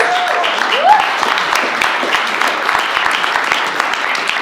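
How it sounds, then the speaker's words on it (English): Audience applause for a guest speaker at a talk, a steady wash of clapping that fills the whole stretch at moderate loudness, with a brief voice-like tone near the start. "Let's give him a warm round of applause"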